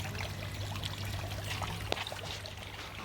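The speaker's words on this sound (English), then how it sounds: "Gorgeous water features here." A decorative water feature at a garden centre trickles and pours quietly, a soft continuous splashing with a low steady hum beneath and faint background bustle.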